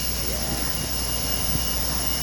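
A small battery-powered fan built into a garment blows air, a steady close whirring hum with a constant tone and a faint rushing of air, unchanging throughout.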